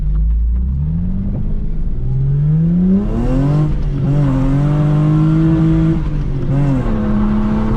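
A car with a 2J engine pulls hard through the gears, its loud engine note sweeping upward in repeated climbs broken by quick shifts, heard close and without talk.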